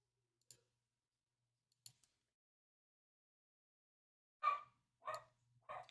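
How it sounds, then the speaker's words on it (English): A dog barks three times in quick succession near the end, loud and close, after a few faint clicks in an otherwise quiet room. "Of course, my dog."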